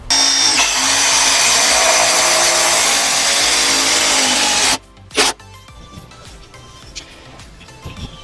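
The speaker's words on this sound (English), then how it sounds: "We're going to now install this up on the pergola with 6-inch screws, either 2 or 4 screws" A Mellif 20V brushless compact impact driver drives 6-inch screws into a pergola, a loud, close, sustained whine and rattle for several seconds, then a short final burst, with quieter handling noise after.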